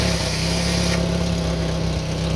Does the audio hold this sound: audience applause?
no